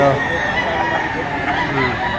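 A two-year-old rooster for sale at a bustling market in Lipa, Batangas crows briefly amid clucking, close and moderately loud, over a seller talking and background crowd chatter.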